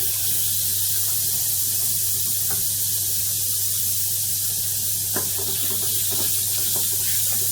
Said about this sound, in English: So when the butter's melting, you just scrape the bottom of that pan and you'll get all the flavour from the onions in.